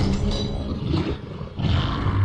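Fire crab creature from a Harry Potter video game letting out a continuous low, rumbling roar, loud and close, swelling again toward the end.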